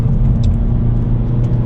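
A 2023 Hyundai Elantra N engine on a test drive, heard as a steady loud low rumble with road noise from inside the car and no talking.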